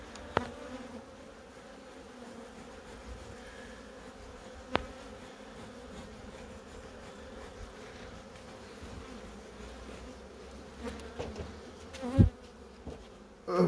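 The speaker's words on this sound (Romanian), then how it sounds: "Hai să dăm albinuțele astea de aici." Honeybees buzz steadily at an opened hive, a continuous droning hum at close range, broken by a few sharp knocks and clicks of hive parts being handled.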